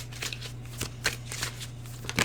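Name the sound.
tarot cards being shuffled and drawn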